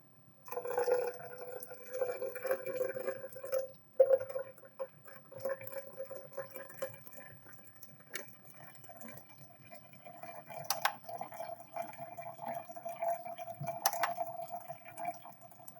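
Water pours in a thin, steady stream into a French press set on a scale, quiet and close, with faint drips and pauses between the pours.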